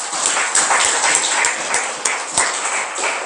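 A church congregation at a New Year thanksgiving service applauding together, a dense, loud wash of many hands clapping steadily for several seconds, with a few sharper individual claps standing out.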